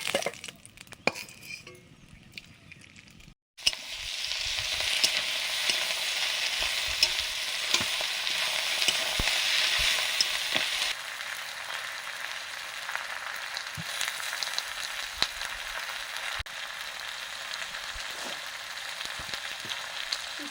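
Catla fish head frying in oil, a loud close crackling sizzle that starts after a few seconds of quieter handling sounds and runs steadily, easing somewhat toward the end, with occasional clicks and no voices.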